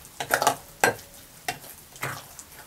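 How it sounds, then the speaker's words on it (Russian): A spoon stirs a cottage cheese filling with sugar and sour cream in a bowl, four or five short wet scraping strokes spaced about half a second apart, close and fairly loud with no voices. "Опять же хорошенько перемешиваем."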